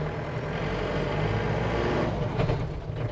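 A modified luxury Tempo Traveller van with a hard clutch drives in first gear, a steady loud low engine drone heard from inside the cabin, with a brief airy hiss near the end.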